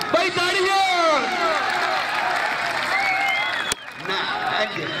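A crowd claps at an open kabaddi match in Pakistan, with a dense burst of applause under an announcer's loud, sing-song voice that carries over it, then a short break before more clapping and calling.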